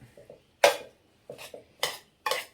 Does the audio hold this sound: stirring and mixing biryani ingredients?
yes